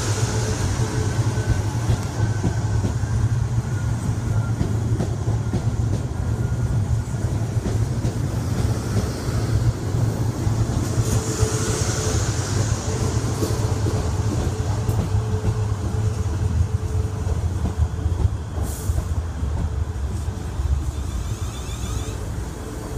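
Continuous loud rumble of a Class 450 electric train arriving at platform 9, London Waterloo, steady low roar with rail noise and a faint squeal, no voices.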